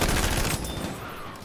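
VGO gunfire in the Firestorm mode of a video game during a squad wipe: a dense, loud burst of rapid shots that tails off into a fading rumble, with no voices.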